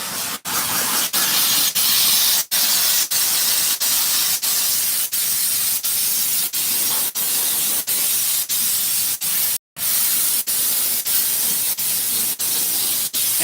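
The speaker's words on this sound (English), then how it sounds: "you want to be careful when you're using the steamer" A high-pressure steamer hisses while a car interior is detailed, a loud continuous spray broken by regular short clicks and one brief gap partway through.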